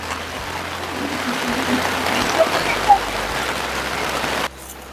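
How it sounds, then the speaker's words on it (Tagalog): Steady rain patters on a garden, a constant broadband hiss with a couple of brief louder drops, cutting down abruptly near the end. "First time pong ulan ng ating garden."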